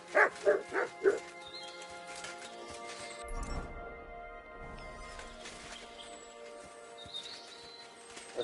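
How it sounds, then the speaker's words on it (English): A dog barks four quick times up close, then quieter ambient sounds follow with a low rumble and faint bird-like chirps in the background. "that's my dog."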